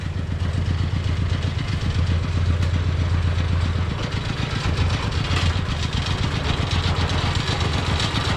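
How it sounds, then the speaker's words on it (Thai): A single-cylinder walk-behind tractor engine towing a trailer chugs and clatters steadily, loud and close, running continuously without pause. "ใช้รถไถเดินตามครับติดพ่วงครับ"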